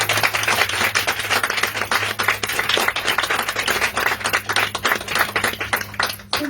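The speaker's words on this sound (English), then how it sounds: "So let's applaud for Marcus." A studio audience applauds for Marcus, the winner, in a steady wash of close, dense clapping that holds for several seconds before thinning out near the end, with no talking over it.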